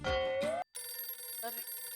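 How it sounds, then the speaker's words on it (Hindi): A phone rings for an incoming call in a household scene from the Indian sitcom Taarak Mehta Ka Ooltah Chashmah, a bright electronic ringtone that breaks off briefly, then resumes under a steady musical background. "फोन आया।"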